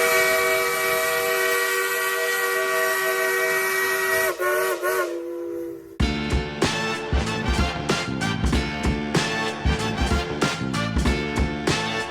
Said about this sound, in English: This is the Lionel Brass Hybrid CSA 2 Challenger, and we're going to check it out together on Bard Brothers Railroad.